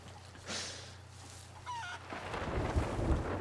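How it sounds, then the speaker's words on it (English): Chicken in the Sea of Thieves video game on Xbox One, giving a brief clucking call among wind and ambient island noise, followed by rumbling movement. "I hear a chicken."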